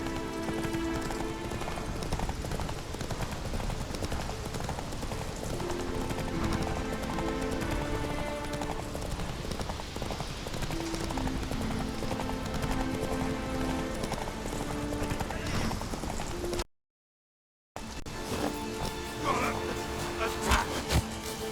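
A horse gallops in The Witcher 3, hooves clip-clopping in a fast, even rhythm over a bed of game music, then a short silent gap before the running resumes.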